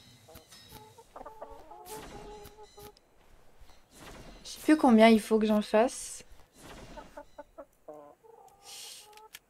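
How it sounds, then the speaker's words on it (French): Chickens clucking in the video game ARK: Survival Evolved, with repeated close clucks and squawks and a louder burst of calls in the middle, while someone speaks French over and between them. "les poules, elles sont grave bruyantes"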